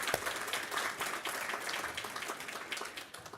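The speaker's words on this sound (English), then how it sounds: "So let's give them a bit of a round of applause." Audience applause at an immigrant celebration event, a faint, steady patter of clapping from a crowd lasting a few seconds.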